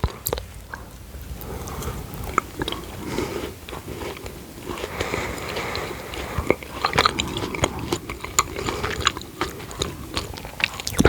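Close, crisp bites and chewing of vegan chocolates with a crunchy biscuit-style bottom layer, a dense run of crunches and crackles continuing throughout with no talking.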